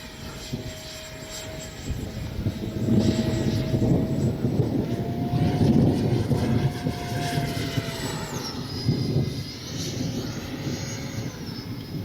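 An Arrows RC F-86 64mm electric ducted-fan jet model flies a speed trial, its high whine rising and falling in pitch as it makes close passes, loud and continuous with no talk.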